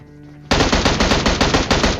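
PUBG gunfire: a short quiet lead-in, then a loud, close burst of rapid automatic shots in an even, fast rhythm lasting about a second and a half.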